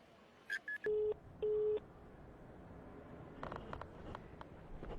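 Telephone dialing tones from a call being placed: a few short beeps followed by two longer steady tones, fairly faint, then low background noise with some rustling.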